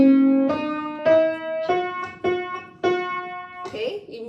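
A keyboard plays a simple five-note melody climbing from C up to G in a beginner lesson. The notes are separate and evenly spaced, close and clear, with a faint bit of background noise near the end.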